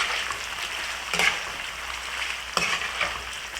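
Geera pork sizzling and frying in its own rendered fat after the liquid has cooked off, a steady close crackle with a couple of sharp stirring scrapes of the pot, and no voice.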